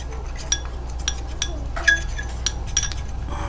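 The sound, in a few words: mixing seaweed facial mask ingredients in a bowl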